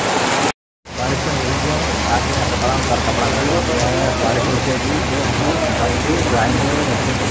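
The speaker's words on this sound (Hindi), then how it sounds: "बहुत जोर की बारिश हो रही है भाई, हम लोग फंसे हुए हैं" Heavy rain pours down in a dense, steady hiss, loud and close, continuing without a break apart from a brief cut near the start.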